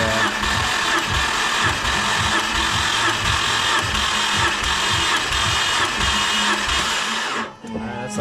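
A 2011 Subaru WRX engine cranking over on the starter during a compression test, a loud, close, rhythmic churning pulse that runs steadily for several seconds before cutting off abruptly near the end.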